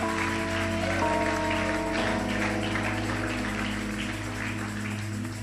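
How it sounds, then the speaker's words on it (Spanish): A church congregation claps along during a service, a quieter wash of hand claps partly buried under sustained organ or keyboard chords that carry throughout. "Un aplauso fuerte a Cristo."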